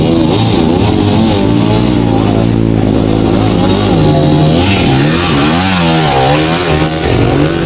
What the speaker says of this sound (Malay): ini dia sebuah jentera bernadikan enjin Lifan 250